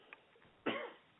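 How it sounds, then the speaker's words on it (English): A single close, harsh cough bursts out once and trails off briefly, preceded by a faint short catch in the throat, in an otherwise quiet setting. "the freezing temperature has me with the sniffles, and I'm coughing"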